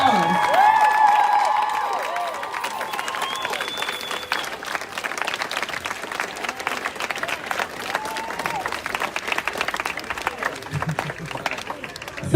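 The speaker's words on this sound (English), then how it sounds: "So let's give them another round of applause." A crowd at a Black Lives Matter protest in Rochester claps and cheers loudly, with whoops and whistles over the start, then the applause thins into scattered clapping and background chatter.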